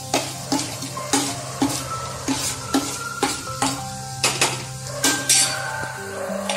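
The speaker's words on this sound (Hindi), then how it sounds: "हम इसको सौते करेंगे जब तक ऑयल छोड़ ना दे" Amritsari chhole masala with cumin, fennel and Kitchen King spice sautéing in oil, a steady sizzle broken by repeated sharp clacks of a spoon stirring against the pan, close and fairly loud.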